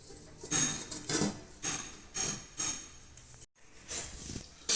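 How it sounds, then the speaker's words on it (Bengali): A metal lid clinks and clatters onto a pot of boiling potatoes in a kitchen, a series of sharp, close metallic knocks and scrapes with brief pauses between them. "এখন কিছুক্ষণ আমি এটা ঢাকা দিয়ে দেবো"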